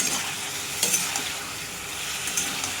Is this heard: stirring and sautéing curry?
yes